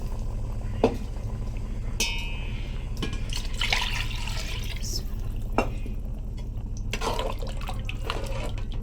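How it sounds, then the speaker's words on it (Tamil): Water splashes and trickles into a pot in uneven bursts, with clinks and drips against a steady low background hum. "இப்போ நம்ம அளவு தண்ணி ஊற்றிடலாம்"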